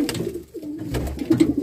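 Low, burbling coos from several pigeons in a loft run on without pause, close and fairly loud, with small clicks and scuffs mixed in.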